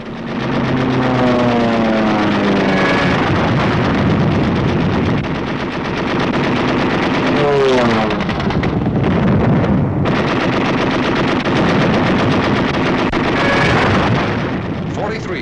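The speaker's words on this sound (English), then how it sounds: "Over all these targets, flak was intense and accurate." Dense, continuous bursts of rapid anti-aircraft flak and heavy booms blend with droning B-17 and B-24 bomber engines over the Eastern Front in 1944, loud and chaotic throughout.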